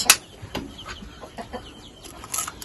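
A farmyard duck hisses in short, faint bursts amid scattered clucking poultry noises nearby, with no talking over it.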